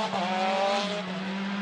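WRC rally car braking hard for a straw-bale chicane on a tarmac stage in Alsace, France. A steady engine tone drops in pitch while tire noise hisses, heard close and fairly loud.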